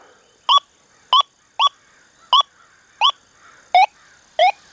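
A Deus 2 metal detector in Gold Field mode at low reactivity gives seven short, evenly spaced warbling beeps over a faint steady hum, clear and close with no talking.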